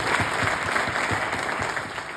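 An audience bursts into loud, sustained applause at a motivational talk, many hands clapping together in an even, continuous roar that carries on without pause.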